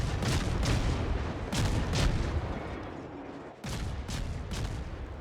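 Heavy naval guns fire and shells strike in World of Warships, with a run of loud, booming blasts rolling into one another and a short lull before more thuds.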